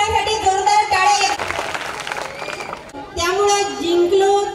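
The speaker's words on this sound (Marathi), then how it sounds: "नेरकर सरांसाठी जोरदार टाळ्या." Brief applause from an audience of schoolchildren at a school singing event, honouring the headmaster, rises between bursts of a man's amplified speech and dies away after a couple of seconds.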